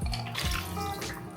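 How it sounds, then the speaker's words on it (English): A water, oil and salt mixture for pizza dough pours into a bowl in one short, close, splashing gush of liquid, with no voices. "my water, oil, and salt mixture is going to go into the bowl"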